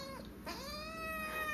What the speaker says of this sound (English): He's meowing a lot.